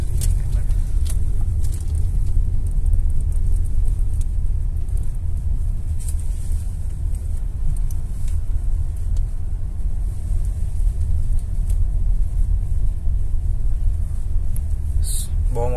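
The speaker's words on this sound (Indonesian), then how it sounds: "Dan ini mobil walaupun besar tapi nggak terlalu terasa besar nyetirnya" Cabin noise inside a Graphite Gray Hyundai Palisade Signature facelift SUV on the move: a constant deep road rumble and tyre roar, steady throughout, with people conversing inside the car.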